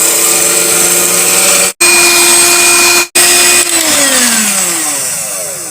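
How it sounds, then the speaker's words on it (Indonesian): An old-fashioned electric hand mixer beats cake dough for kue tambang, its loud steady motor whine running alone for the whole stretch, cut off by two brief stops, then slowing and dropping in pitch near the end. "Cuma agar lebih cepat saya akan pakai mixer aja."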